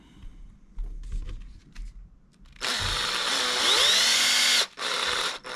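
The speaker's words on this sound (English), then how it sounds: "Highly recommend if you can get a power driver." A power driver runs screws tight on a Kyosho 1/8 diff and bulkhead kit build, a steady loud whir that starts after some quiet handling, rises in pitch, cuts briefly and resumes.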